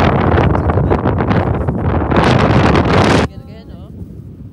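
Heavy wind buffets a microphone in loud continuous roaring gusts, then drops abruptly near the end, leaving faint background sounds.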